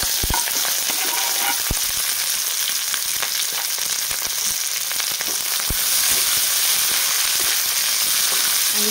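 Chopped bell peppers frying in hot oil with sautéed garlic in a home kitchen pan, a steady loud sizzle running throughout with occasional sharp crackles and stirring clatter.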